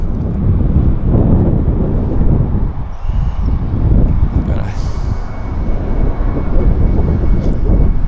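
A WestJet airliner takes off at Vancouver airport, its broad engine roar rising and passing close overhead, steady and loud through gusty wind buffeting on the microphone.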